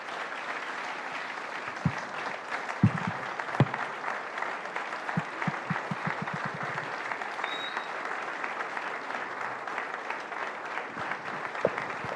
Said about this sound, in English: A well-deserved round of applause for Professor Jega.